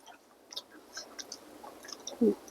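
Butter-roasted macadamia nuts being chewed close up, with soft crunching bites scattered through a quiet stretch and a louder crunch near the end.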